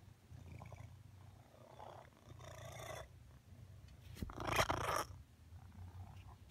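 A cat purrs loudly and steadily right up close, a rumbling low drone that swells and fades with each breath, and a brief louder burst near the end.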